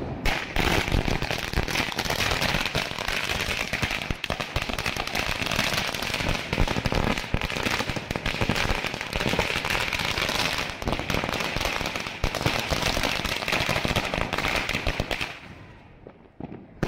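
A long string of firecrackers bursts on Diwali evening at Lakshmi Puja time: dense, loud, rapid-fire cracks run continuously for about fifteen seconds before thinning out and fading near the end.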